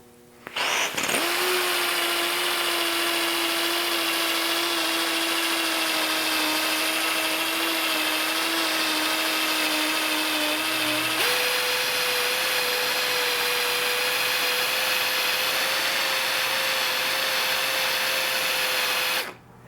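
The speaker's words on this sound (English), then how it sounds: "Then I'll slowly bring on the speed and polish this area so that it removes those other scratches." A power polisher buffs scratches out of motorcycle paint, spinning up abruptly to a steady loud whine that then steps up to a higher speed and holds before shutting off, with no talking.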